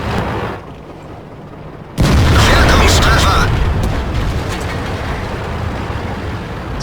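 A T-28 prototype tank gun in World of Tanks fires with a heavy, close boom that rolls into a long rumbling roar of battle noise, while someone talks over it.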